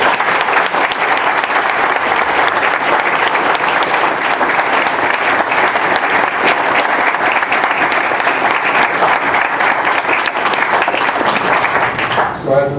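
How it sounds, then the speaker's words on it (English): A forum audience gives the seven election candidates a long, steady round of applause, dense clapping sustained for about twelve seconds before it cuts off. "all 7 of them deserve a nice round of applause"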